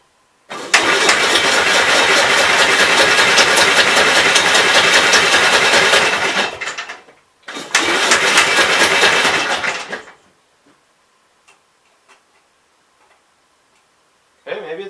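A Gravely 44L engine being cranked by its electric starter: a long, loud rhythmic churning followed by a second shorter cranking attempt, neither one catching, then near silence.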